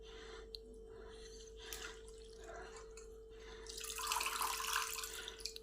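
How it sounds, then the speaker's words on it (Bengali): Coriander leaves washed under a running tap, the water a soft steady hiss that swells louder over the final seconds, with faint handling noises and a low steady hum beneath. "পাতাগুলোকে ভালো করে ধুয়ে নিতে হবে।"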